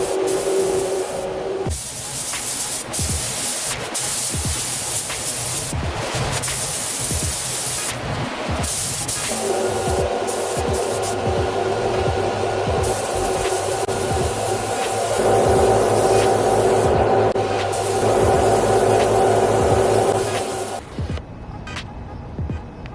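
Steady hiss of aerosol white primer sprayed onto a Chevrolet Silverado truck bumper and grill, long continuous bursts with brief pauses between passes, close and loud throughout.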